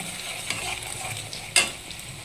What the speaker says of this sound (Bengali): দিয়ে ভালো করে সব মশলাগুলোকে আবার কষে নেব